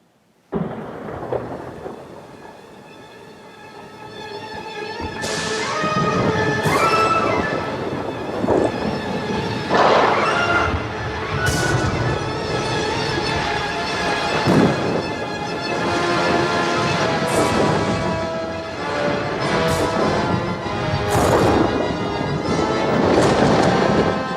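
Thunder from a lightning storm rolls and cracks repeatedly, loud booming rumbles with sharp bursts spread across the stretch, over a steady background wash like rain.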